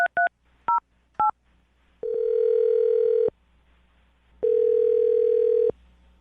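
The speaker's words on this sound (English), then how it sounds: "I'm going to dial their phone number right now." Telephone keypad dialing a number: a few short, close DTMF beeps in quick succession, then two long steady tones separated by a pause, clear and alone with no talk.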